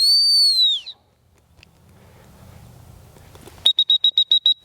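A dog training whistle sounds during retriever gun dog training, first a long sliding blast, then after a quiet gap a rapid series of seven short sharp pips, loud and close outdoors.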